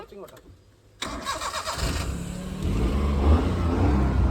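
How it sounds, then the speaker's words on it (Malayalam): A 2012 Maruti Alto 800 is started after a quiet moment. The starter cranks briefly, then the small engine catches and settles into a steady, fairly loud idle at close range. "അപ്പോൾ വണ്ടി ഒന്ന് ജസ്റ്റ് സ്റ്റാർട്ട് ആക്കി കാണിക്കുന്നത്."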